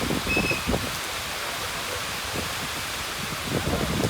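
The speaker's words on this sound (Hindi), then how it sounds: "ज़रा बारिश चेक करें भाई, क्या ज़बरदस्त बारिश हो रही है।" Heavy rain pours in Bahrain, a dense, even hiss of falling water with scattered nearer drips and splashes, steady throughout with no voices.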